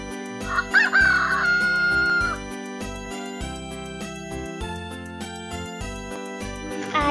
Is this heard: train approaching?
no